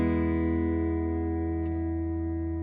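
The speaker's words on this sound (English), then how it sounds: "it goes into this reverb drone thing, which is super cool to have" A Blackstar AMPED 1 guitar amp pedal holds a sustained reverb drone, a dense, steady wash of layered tones that rings on without a break and fills the whole stretch.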